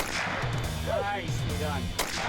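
Rifle shots at a shooting competition crack out against a dense, loud background, sharp reports under steady noise with a voice briefly audible.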